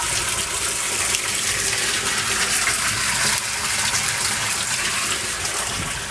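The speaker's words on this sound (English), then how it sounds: "Yes, the water's running there." Water gushes and drains through a bell siphon in a backyard barrel aquaponics system, a steady loud rushing flow with no letup.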